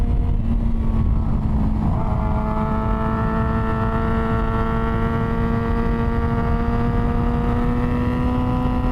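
A 2006 Yamaha R6 sport bike engine held at high RPM on track, with a clear drop in pitch around two seconds as it downshifts, then a steady, loud, close whine with layered harmonics that slowly climbs.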